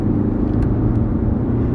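A Toyota SUV's engine drones low and steady as the driver hits the gas, a loud, close, even rumble with no talk.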